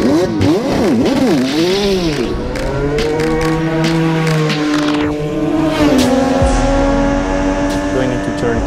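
An onboard race car engine drives a street circuit, revving hard and sweeping up and down through the gears with a loud, continuous roar and a sharp drop in pitch under braking near the end.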